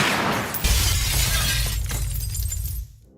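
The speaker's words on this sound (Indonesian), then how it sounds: "Ia menggunakan pistol untuk menembak dan menghancurkan saluran ventilasi kaca di langit-langit." A pistol shot shatters a glass ventilation duct in a ceiling in a film scene, a sudden loud crash of breaking glass with scattering shards that rings briefly before cutting to near silence.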